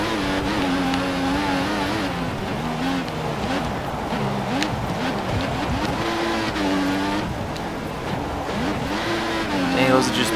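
An F1 car in the F1 2014 racing game accelerates hard with wheelspin, its high engine note rising and falling through gear changes with tire squeal, loud and continuous, while someone talks over it.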